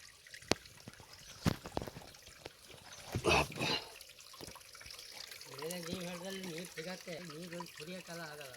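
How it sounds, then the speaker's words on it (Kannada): A small stream of water trickles at a trail water point on a hillside trek near Agumbe, a soft broadband wash in the middle of the clip, with someone talking nearby toward the end. "ಸ್ವಲ್ಪ ಹರಿತಾ ಇದೆ ನೀರು ಇಷ್ಟು"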